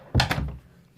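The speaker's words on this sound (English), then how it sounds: "Let me close the door" A wardrobe room door swings shut with a single solid thunk close to the listener, its low body fading out within half a second, then a faint tap afterward.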